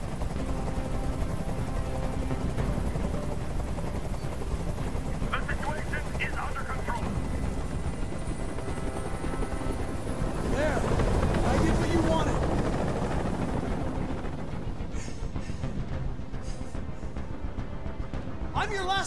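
In the video game Detroit: Become Human, a helicopter hovers nearby with a steady, low, throbbing rotor drone that persists throughout, while a voice speaks over it.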